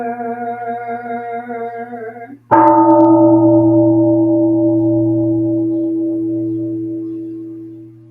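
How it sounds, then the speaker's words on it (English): A steady humming tone, then a deep Zen temple bell struck once, booming loudly and ringing out in a long, slowly fading hum. "The sound of the temple bell booms for all to cease from conflict."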